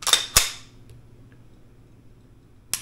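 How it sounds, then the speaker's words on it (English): Dry firing an unloaded pistol: two crisp trigger clicks close together, then a pause and a third click, sharp and close with no talking. "at that point, dry fire."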